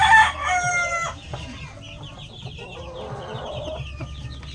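Sweater gamefowl on a small backyard poultry farm cluck and call at close range, with a loud burst at the very start and a rooster crowing, then softer chicken chatter continues.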